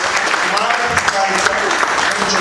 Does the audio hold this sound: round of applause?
yes